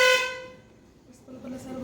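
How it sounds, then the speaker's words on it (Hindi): A school van's horn honks loudly in the morning, a harmonic blare at the start that fades, followed by quieter tones. "इतना गंदा हॉर्न बजाता है ये वैन वाला सुबह सुबह।"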